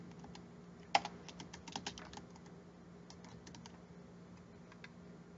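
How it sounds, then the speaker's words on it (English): Fingers tap out a name on a computer keyboard, a quiet run of light, irregular key clicks with one sharper press near the start, then sparse taps and a faint steady hum. "go ahead and type in your name."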